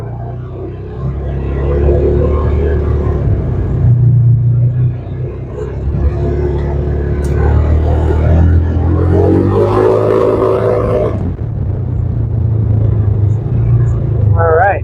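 A 2015 Polaris Ranger 570 off-road vehicle driving through a ditch, its engine a loud steady rumble throughout with a rise in revs partway through, close up and rough-sounding, with someone talking briefly over it.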